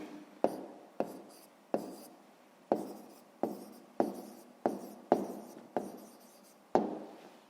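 A pen writing on paper during a sixth-grade math exercise, producing a regular series of sharp scratchy strokes, each with a quick attack and fading tail, heard close up and alone.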